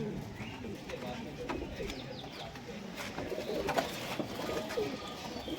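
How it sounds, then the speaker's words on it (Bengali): Andhra low-flyer racing pigeons, including females, cooing softly in a loft: repeated murmuring coos and rustling, heard under people talking nearby. "এখানে সব ওড়ানোর পায়রা আছে, মেয়ে পায়রা"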